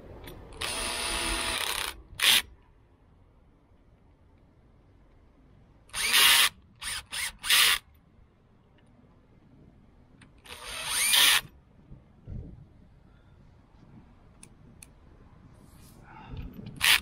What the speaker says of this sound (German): Und schrauben diese Schrauben fest.